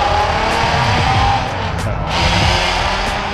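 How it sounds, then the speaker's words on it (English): A Ford Mustang pulling away from a car meet, its engine note loud and close and steady throughout, with no talk over it. "Let that Mustang pull off."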